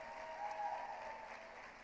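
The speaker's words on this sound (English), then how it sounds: "We can get a quick round of applause for Lydia, who's here" An audience at the Creating Change 2014 conference gives a brief round of applause for Lydia Martinez, a low, muffled patter of many hands heard from afar.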